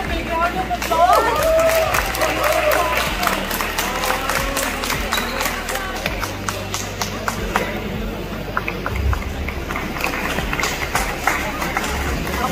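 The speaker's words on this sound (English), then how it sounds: "I thought you would clap louder for me than you were." An audience at a school alumni reunion claps in bursts of sharp hand strikes amid background chatter, with crowd murmur and talking voices running through the scene.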